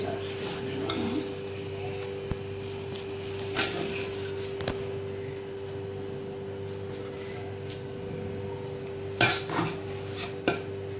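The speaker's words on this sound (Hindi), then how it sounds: "अब इसे हम करते हैं डिश आउट" Vegetable chicken pulao being served from a cooking pot, with a few scattered clinks and scrapes of a serving spoon against metal, louder bursts near the end, over a steady background hum.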